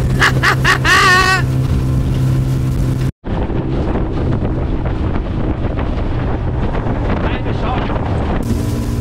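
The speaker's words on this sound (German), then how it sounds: "Krasser Wind." Strong wind roars across the microphone aboard a fast boat heading toward a city through the Brazilian rainforest, a steady loud buffeting with engine and water rush beneath, briefly cut out near the start.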